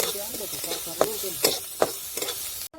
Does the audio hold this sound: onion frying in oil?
yes